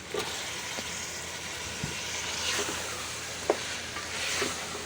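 Chopped vegetables go into frying masala for kadhi pakora, producing a continuous hissing sizzle with gentle swells and a few faint knocks of stirring, no voices.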